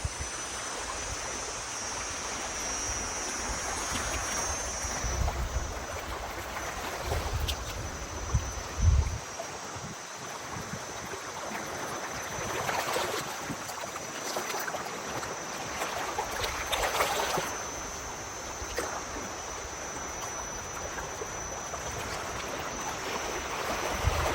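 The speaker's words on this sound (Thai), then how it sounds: "ฟังเสียงคลื่นนะกระทบกับหิน" Steady wash of waves breaking against rocks and churning close by, with a rushing, hissing surge that rises and falls; no voices.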